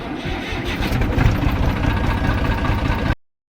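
A farm tractor's engine runs close by in a village field, a loud, rough mid-pitched chugging with steady knocking pulses that cuts off abruptly near the end.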